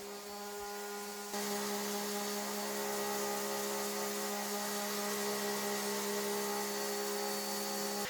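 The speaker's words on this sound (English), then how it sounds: "I brought out my Bosch orbital sander and used a very aggressive 60 grit to start sanding" A steady, loud Bosch orbital sander with aggressive 60-grit paper whirs continuously on a wooden tabletop, stripping its finish, with a sharp step up in intensity after the first second.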